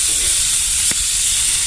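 Sausage sizzles in hot oil over a campfire, giving a close, steady frying hiss with a brief crackle about midway.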